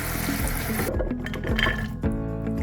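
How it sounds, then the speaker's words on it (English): Soaked nuts rinsed under running water, a steady broadband wash over the first second, then quieter splashing and sloshing over prominent background music. "Make sure you rinse your nuts thoroughly after soaking them."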